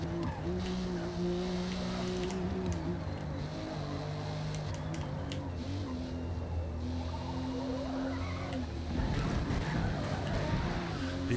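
A race car in Forza Motorsport holds a steady, droning engine note in top gear through corners, with tire noise building toward the end; no voices.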